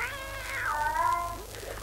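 A cat meows in a long, drawn-out wail with a rising then falling pitch, close and fairly loud, standing alone with no talk over it.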